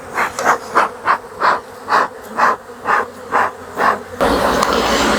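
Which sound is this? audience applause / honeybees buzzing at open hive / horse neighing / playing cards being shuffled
honeybees buzzing at open hive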